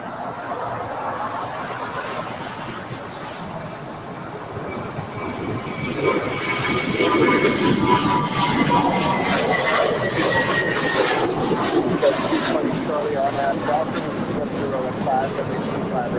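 An American Airlines A321 takes off from runway 25 right at LAX, a broad jet roar that swells around the midpoint and holds steady and loud, with faint talk underneath.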